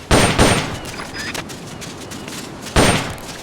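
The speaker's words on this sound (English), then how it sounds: "Why not try some shooting practice? Select a target and squeeze off a round or two." Gunshots in Metal Gear Solid Peace Walker during shooting practice, a few sharp reports with the first two close together and another near the end, loud and close with no talking.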